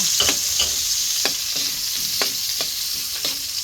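Garlic and onion sizzle and fry in a pan, a steady close crackle under a few sharp stirring scrapes of a utensil, with no voices.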